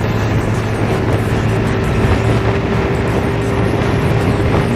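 A TVS Jupiter 125 scooter engine held at full throttle near 80 km/h, a loud continuous drone with steady tonal hum and heavy wind rush throughout, no voices.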